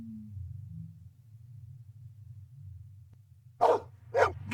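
A dog barks inside the Blade Runner video game, two short sharp barks near the end of the clip following a stretch of low ambient hum.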